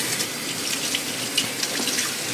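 Tap water runs steadily over sweet potatoes being washed in a sink, a continuous close hiss and splash with slight fluctuations as the vegetables are moved under the stream, with no talking.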